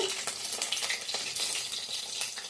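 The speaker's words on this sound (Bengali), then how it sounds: "চিকেন পকোড়াগুলো এখনও ভাজা হচ্ছে" Small minced chicken pakoras fry in hot oil with a steady, dense crackle and sizzle that holds at an even level throughout, close by, with no voices.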